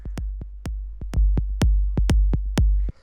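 Kick and tom drums in a minimal techno groove, dry without drum bus processing: a steady run of punchy low thumps with sharp attacks, about a dozen hits spaced evenly, loud and alone.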